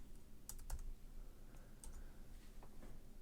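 A few quiet keystrokes on a computer keyboard as a short word is typed, soft scattered clicks close up against a faint steady room hum, with no talk.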